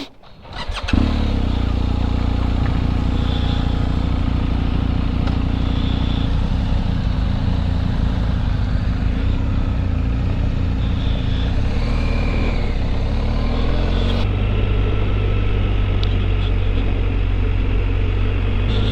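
BMW R1250GSA motorcycle on a ride around Santeetlah Lake, its engine a steady loud low drone with wind rush, holding an even pace throughout with a brief shift in tone partway.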